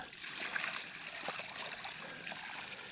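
Water from a container pours and splashes onto soil around a newly planted pawpaw tree, a steady continuous gush without talking.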